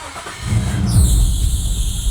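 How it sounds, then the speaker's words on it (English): Nissan Skyline engine starting after a repair: a brief cranking whir catches into a running idle with a rising high whine, close and fairly loud. "we are now ready to see if the engine will blow up"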